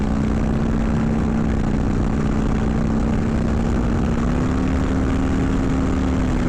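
A 2020 Harley-Davidson FXLRS motorcycle engine pulls hard on a highway, giving a loud, steady drone with a low tone that climbs slightly, mixed with heavy wind rush and no talk.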